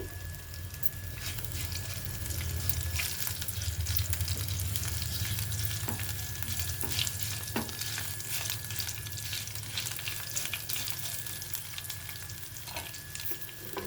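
Dried red chili sizzles in hot frying oil for a tomato and radish curry, a steady close crackle and hiss that carries on throughout with light stirring clicks.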